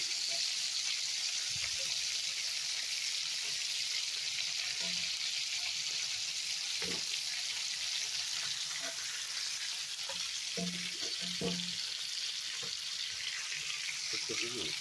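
Pan drippings from lamb chops sizzle and crackle steadily on the stove while a sauce is made, a soft continuous fry with occasional stirring and scraping clinks, heard alone.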